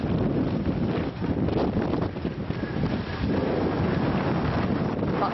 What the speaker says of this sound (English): 60-mile-an-hour gusts lashed the camp through the night